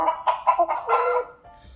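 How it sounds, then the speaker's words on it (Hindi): A chicken clucks in a quick run of short, close, fairly loud notes that trail off, heard alone. "मुर्गी"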